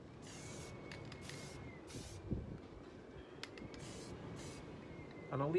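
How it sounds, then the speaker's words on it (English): Hammerite Smooth paint hisses from an aerosol can in several short, quiet bursts as a mist coat goes onto a Honda CL350 part, with gaps between each spray. "is my Hammerite Smooth, and with this stuff you put on a mist coat first, just to give it something to grip."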